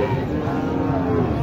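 Cattle low steadily at a busy cattle market, a sustained deep moo close by against crowd murmur.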